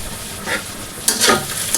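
Egg fried rice stir-fried in a pan with pepper and salt, a loud steady sizzle broken by a few sharp scrapes of the spatula, close up and with no talk.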